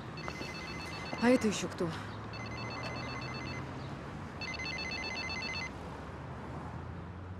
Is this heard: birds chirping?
no